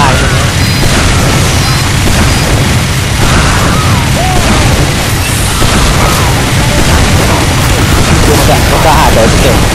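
Explosions and heavy combat noise fill a Mann vs Machine match in the video game Team Fortress 2, a continuous loud roar of booms and bursts with people talking over it throughout.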